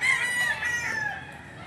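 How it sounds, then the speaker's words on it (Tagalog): A rooster crows once at a rooster market in Padre Garcia, close and loud, its drawn-out call fading toward the end; no one speaks. "Ito yung mga parada ng manok dito sa Padre Garcia."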